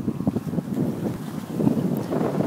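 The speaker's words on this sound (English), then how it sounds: "Wind! I feel it speaking to me. Wind! It's yelling at me." Strong wind blowing outdoors, a steady low roar buffeting the microphone with gusts swelling toward the end, loud and close with no speech.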